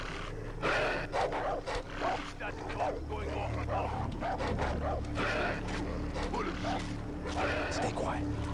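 Dogs bark in a game playthrough, sharp yips and bow-wows scattered through the clip over a steady low game hum and a voice talking almost throughout.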